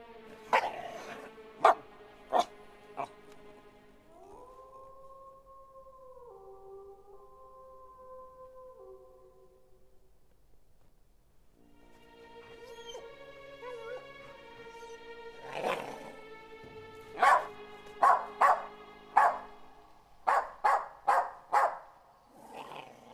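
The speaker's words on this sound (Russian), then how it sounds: "А там, наверное, собака внутри." A dog barks in sharp bursts at the start, then goes quiet behind a long wavering howl-like tone, before a fresh run of loud barks and yelps builds toward the end, close by.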